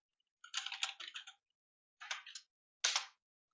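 Computer keyboard keys clack in three quick bursts while a Control X shortcut is pressed in the Nano editor, faint and close with silence between the bursts.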